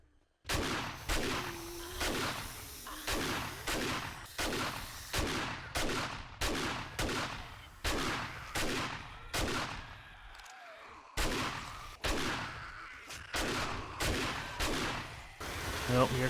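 Gunfire in the zombie survival game 7 Days To Die, a long run of loud, evenly spaced shotgun-like blasts, roughly one every second, continuing almost without pause.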